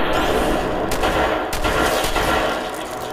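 Dense gunfire aimed at a rat scorpion in the Fallout 4 video game: loud, continuous, booming bursts of shots and blasts packed close together with a few sharper cracks, and no voices over it.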